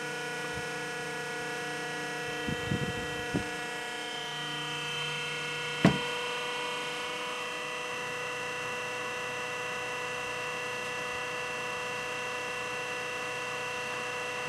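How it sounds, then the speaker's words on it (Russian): A homemade electric motor fan that also works as a generator runs with a steady hum and whine throughout, steady in level, with a couple of brief handling knocks and a sharp click partway through. "Гарний получився вентилятор."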